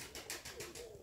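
Pigeons coo softly at a distance in a series of low, rolling throaty calls over a faint outdoor background, with no talking.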